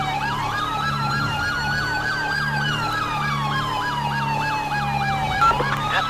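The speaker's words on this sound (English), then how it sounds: "I'm surprised he knows how to work that siren." Police car siren in GTA V with the LSPDFR mod, a rapid yelp warbling steadily up and down, loud and close, over a low engine rumble from a stolen LSPD cruiser in Blaine County.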